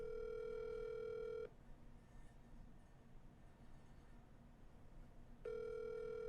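Outgoing phone call ringback: a steady electronic ring tone sounds for about a second and a half, then a long silent gap, then the tone starts again, clear and fairly quiet.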